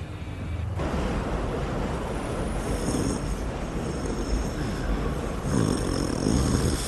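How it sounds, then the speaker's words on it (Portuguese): A person asleep snores in a steady, rough, rumbling breathing pattern that is fairly faint and continuous, with no talking. "Você está roncando."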